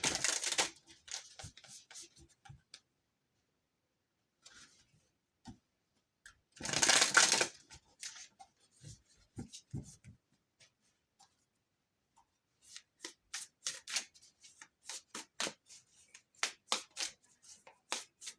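Tarot cards being shuffled by hand before a reading: near, crisp bursts of riffling and slapping card sounds, with a loud flurry midway and a rapid run of flicks near the end, alone in a quiet room.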